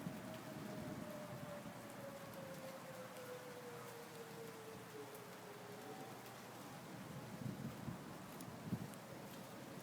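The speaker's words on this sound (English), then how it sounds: "Look at that heavy rainfall." Heavy rainfall pours through a thunderstorm as a dense, even hiss, with a far-off tornado siren slowly sliding down in pitch during the first part and a few louder gusts and thumps near the end.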